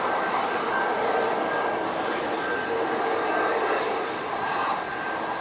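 An Emirates A380 airliner roars through a go-around, its engines a loud, sustained broadband rumble with a faint steady whine, holding level throughout with no voices.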